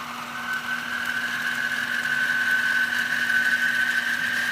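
Homemade 2x72 belt sander running steadily with a constant motor hum and a rising whine as it speeds up, alone without talk.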